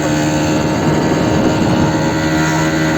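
A Romet Ogar moped engine runs during a test ride, giving a loud, continuous buzzing drone with steady tonal hum and no speech.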